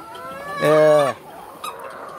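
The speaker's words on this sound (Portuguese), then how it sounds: "Aqui são as galinhas creme" A cream laying hen on an egg farm gives one loud, close, drawn-out cluck that stands out above quiet barnyard background.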